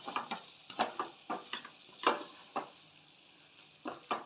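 Prawn roast masala with garam masala and pepper being stirred in a pan, a run of separate scraping strokes, some sharp and close, over a faint sizzle with short gaps between them.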